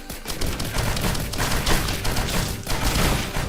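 Fireworks explode in the video game Risk of Rain Returns during a Loader run on Monsoon difficulty: loud, dense, rapid crackling bursts pile up without pause, and no one speaks.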